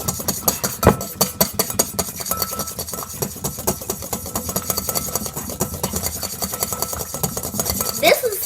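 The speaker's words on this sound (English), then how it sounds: "we're just going to beat this until it gets frothy." A whisk beats egg white with vanilla and a tablespoon of water in a bowl until frothy, making rapid rhythmic clinking and scraping strokes against the bowl, close and continuous.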